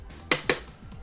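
In Tekken 8, Marshall Law's running steps sound as two sharp, bright clacks about a fifth of a second apart, brief and close, against quiet game background.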